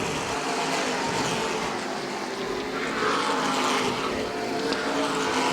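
Modified stock cars racing around the Beech Ridge track: a loud, continuous roar of several engines passing close by, swelling and fading as the pack goes past, with no talk over it.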